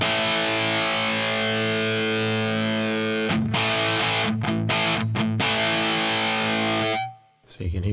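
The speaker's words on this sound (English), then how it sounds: "That's a nasty sort of distortion there." Harsh, buzzy overdriven guitar amp distortion through a Two Notes Torpedo Studio sustains loudly, broken by a few abrupt choppy cuts before it drops away at the end.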